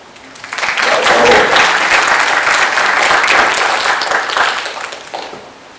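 Audience applause at a university graduate engineering conference, a dense sustained wash of many hands clapping that swells quickly, holds steady for several seconds, then tapers off.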